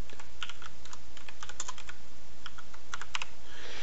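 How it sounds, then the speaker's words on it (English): Computer keys clatter in quick, irregular bursts of close, crisp taps as someone types on a keyboard, with short pauses between runs and no voices. "I'm going to type in my target that I want to discover."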